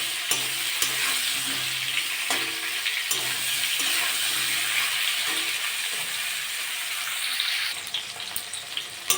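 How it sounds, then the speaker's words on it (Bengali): Pointed gourd pieces fry in leftover oil in a pan, giving a loud, continuous crackling sizzle with occasional sharp clicks from a utensil, close up and steady for the whole stretch. "যে তেল আছে ওই তেলে আমি পটলগুলো ভেজে নেব"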